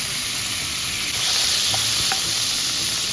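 Butter and cooking oil sizzle steadily in a frying pan while cooking a creamy chicken mushroom dish, a loud continuous close hiss with faint occasional pops, no talk.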